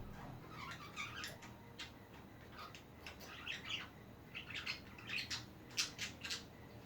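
Pet budgies chirp and chatter in quick, scattered bursts of high tweets and squawks that come in small clusters, fairly faint and close by, with no voices over them.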